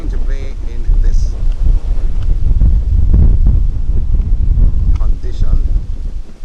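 Strong gusts buffet the microphone at an outdoor women's football cup semifinal, a heavy continuous low roar of wind noise rising and falling throughout, with faint crowd and voice sounds buried beneath.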